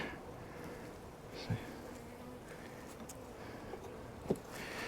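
Honeybees buzz steadily around an open hive, a soft continuous drone with a few faint knocks and bumps.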